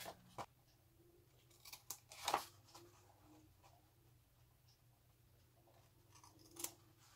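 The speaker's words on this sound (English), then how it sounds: "now you have to cut the little corners out" Scissors snip the small corners out of a folded paper envelope, a few quiet separate cuts and paper rustles in a still room.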